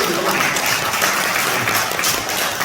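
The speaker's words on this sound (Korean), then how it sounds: "박수 한번 쳐주세요" Steady, dense clapping from a large crowd at an indoor appointment ceremony in a hotel fills the whole stretch, loud and continuous with no voices standing out.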